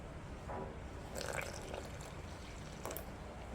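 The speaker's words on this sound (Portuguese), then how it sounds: "E aqui eu vou colocar 500 gramas de água" Water measured at 500 grams poured gradually into bread dough for a long-fermentation poolish loaf, soft intermittent trickles and small splashes against a quiet room, fairly faint and close, no talk.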